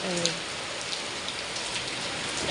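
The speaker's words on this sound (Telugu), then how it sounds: "ఇప్పుడు మళ్ళీ పెద్ద వర్షం అయితే పడుతుంది" Heavy rain pouring down nearby, a dense, steady hiss of drops striking surfaces that holds evenly throughout with no one speaking.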